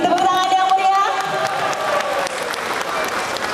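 Audience applauding at a Halal Bi Halal gathering and anniversary celebration, loud and steady across the whole stretch, with an announcer's voice and musical tones audible early on before the clapping carries alone.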